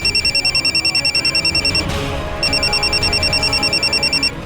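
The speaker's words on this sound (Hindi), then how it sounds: "हमारा फोन क्यों नहीं उठा रही है?" A phone rings with a rapid warbling electronic tone in repeated bursts, pausing briefly before ringing again, loud and close.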